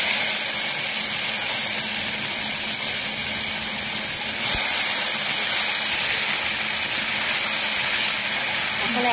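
Ginger and chili paste is added to a hot pan, where it sets off a steady, even sizzling hiss that runs unbroken throughout at a fairly loud, close level.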